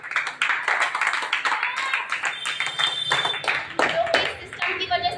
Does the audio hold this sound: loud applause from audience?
yes